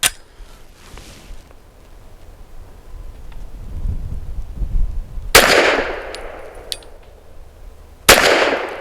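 Two sharp gunshots from a Glock pistol fitted with a Lone Wolf barrel, firing soft-shooting subsonic Federal Syntec 150 grain ammunition, each crack loud and close with a decaying outdoor echo, after a quiet stretch of low ambient rumble.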